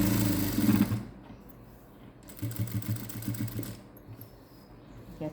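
A sewing machine runs in short stitching bursts, sewing the hook strip onto a cross-cut blouse, with pauses between runs and a steady close mechanical hum.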